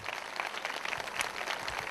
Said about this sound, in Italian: Quindi un applauso ai genitori che lo meritano veramente tutto.